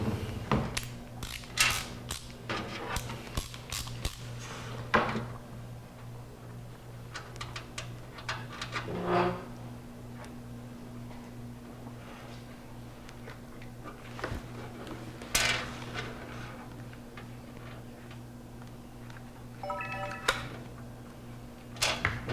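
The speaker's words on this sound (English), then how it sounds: "So I have a 5 millimeter socket to tighten those down." A 5 millimeter socket driver tightening screws while a first computer is being assembled, with quick ratcheting clicks and small mechanical rattles in irregular bursts, close and fairly clear over a steady background hum, with no voices.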